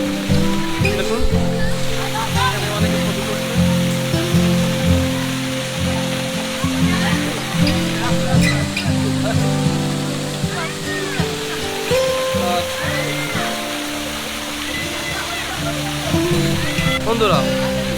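Himchari park waterfall pouring down in a constant dense rush, heard nearby under someone speaking and other visitors' voices throughout.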